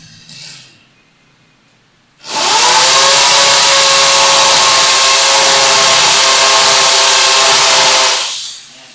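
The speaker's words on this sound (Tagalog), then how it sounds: "So, una po natin i-testing yung barena" After a brief quiet moment, a solar-powered electric drill whirs up to a loud, steady high-pitched whine, runs for several seconds, then cuts off.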